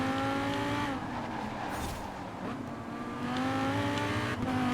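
Two high-performance engines, a Nissan GT-R Black Edition and a Lamborghini Huracán, race in Forza Horizon 4 with a loud, sustained, steady roar and rising and falling pitch as they hold speed, with no talk over them.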